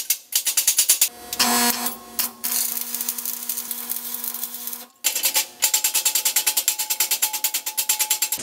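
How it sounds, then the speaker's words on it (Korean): Electric arc welding lays down a bead with a loud, close, crackling buzz in rapid rhythmic pulses, broken by a couple of brief pauses. "그래서 심기일전하고 다시 한번 집중해서 비드를 내봤는데요."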